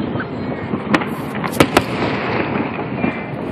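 Sharp pops and crackles from a fireworks show over Lake Union ring out a few times above a steady outdoor crowd rumble, somewhat distant.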